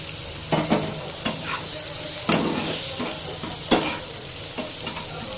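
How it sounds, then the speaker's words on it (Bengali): Scrambled egg bhujia with fried brinjal pieces is stirred in a frying pan: a continuous sizzle broken by several sharp spatula scrapes and knocks at irregular intervals, close and clear, without talk. "তো কিছুক্ষণ 2 থেকে 3 মিনিট নাড়াচাড়া করে নিতে হবে।"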